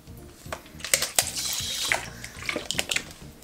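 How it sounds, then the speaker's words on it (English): Water and dashi poured into a cooking pot for Japanese meat and potato stew, a close splashing pour with clinks and knocks over roughly two seconds, surrounded by light kitchen handling sounds. "So at first, add water"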